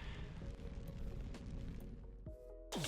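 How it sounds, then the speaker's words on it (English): A ray of flame spell fires in Minecraft with a steady crackling, rumbling whoosh, punctuated by a couple of sharp pops and a bright burst at the end. "I'm firing a ray of flame at her"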